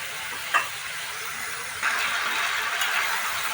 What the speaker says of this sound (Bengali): আর একটু হালকা জল দিয়ে এটাকে কষাতে হবে।